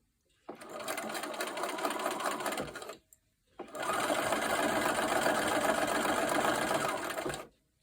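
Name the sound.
sewing machine stitching quilt pieces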